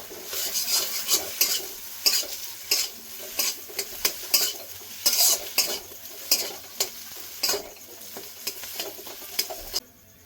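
A spoon stirs coriander, cumin, turmeric and Kashmiri chili powder into a bread snack mixture, making close, rhythmic scraping strokes against the bowl, roughly a dozen in a row over a faint sizzle.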